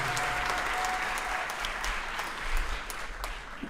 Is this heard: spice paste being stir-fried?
no